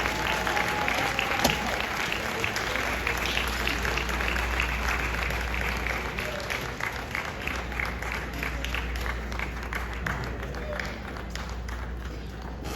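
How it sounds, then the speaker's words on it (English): Awards-ceremony audience applauding committee members on stage, dense sustained clapping from a large crowd with some sharper nearby claps, lasting over twelve seconds with a faint voice briefly audible underneath. "can we please give a big, big round of applause for the committee members"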